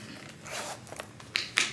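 A zipper pulled on the middle compartment of a Louis Vuitton Ivy wallet on chain: a soft low rasp builds, then two short bright zip strokes come near the end, close and fairly quiet with no talk.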